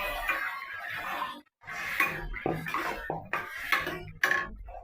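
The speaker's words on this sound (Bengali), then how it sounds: "এবারে কাবলি ছোলাটা ঢেলে দিলাম।" Kabuli chickpeas tumbling into a pan of fried spices for ghugni-style chana masala, a run of close clattering pours and metal-on-pan knocks with short gaps between bursts, no talking.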